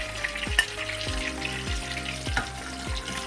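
Fish fries in hot oil with a steady crackling sizzle, broken every half second or so by sharp bright pops and spits, close and fairly loud, with no voices.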